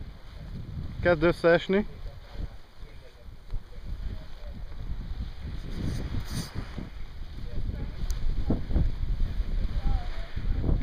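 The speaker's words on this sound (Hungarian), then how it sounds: "Csak kicsit kever a szél." Wind blows steadily outdoors and buffets the microphone with low rumbling gusts that build toward the end, while people talk briefly over it.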